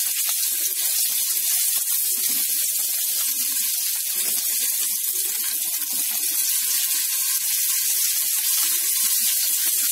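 Shrimp sizzling in a very hot frying pan, giving a steady, loud, continuous hiss from start to finish with no pauses.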